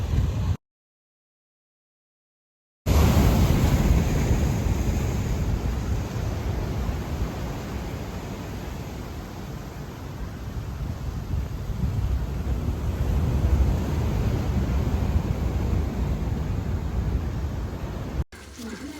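Sea waves splash against the stones of a sea pier as a loud, continuous rush of broadband surf noise with wind buffeting the microphone, after a brief dropout near the start.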